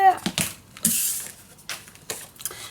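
Scissors snip through patterned craft paper in a few short, crisp cuts with soft rustling between them, close and fairly clear, with a voice briefly heard.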